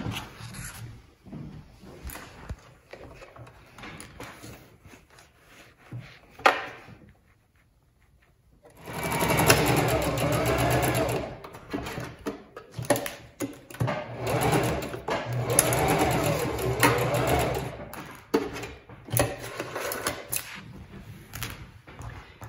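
A sewing machine stitches a 1/2 inch seam in fabric, running in steady bursts with a brief pause and light handling noises between runs.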